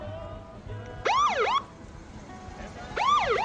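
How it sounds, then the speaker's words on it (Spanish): Two bursts of an ambulance siren, each a rising-and-falling wail lasting about half a second, separated by a pause over low street rumble. "Hay una ambulancia y demás."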